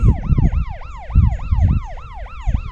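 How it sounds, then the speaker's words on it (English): Police car siren wailing on a country lane, a loud, close, rapidly cycling rise-and-fall tone repeating evenly with vehicle rumble underneath and no talking. "there's a police car coming up here."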